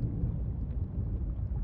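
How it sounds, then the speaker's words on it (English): Deep rumbling thunderstorm in the underwater survival game Subnautica: Below Zero, a steady low roll of thunder and rain-like hiss that stays even and fairly loud throughout, with no voices. "Sounds like a storm's moving in."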